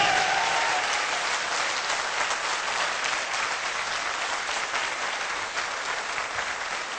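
A seminar audience applauds, dense crowd clapping that holds steady for about seven seconds and tapers only a little toward the end, with no speech over it.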